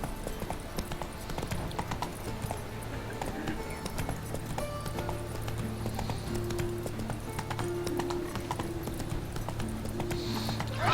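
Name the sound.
horse Roach galloping hooves in Witcher 3 video game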